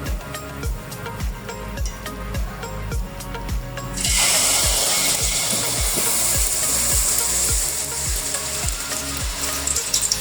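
Oil pitha cakes fry in hot oil in a pan. A low, rhythmic bubbling during the first seconds swells into a loud, steady, hissing sizzle that holds to the end, with no voices.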